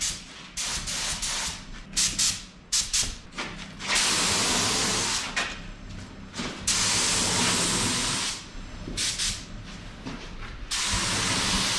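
A spray gun hisses in repeated bursts, some short and some sustained for several seconds, laying a third coat of paint on a station wagon, loud and close with brief pauses between passes.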